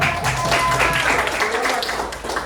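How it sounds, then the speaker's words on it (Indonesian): Schoolchildren in a classroom clap together briefly, a short, fairly loud patter of hands with some background voices mixed in. "Tepuk tangan."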